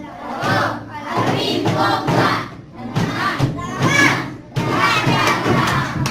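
A group of school children cheering and shouting together in loud rhythmic bursts for their mothers, close and energetic, with brief pauses between chants.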